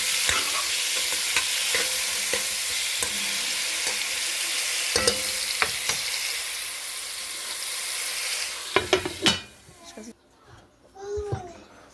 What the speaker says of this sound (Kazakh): Жақсылап қуырылып жатыр қазір.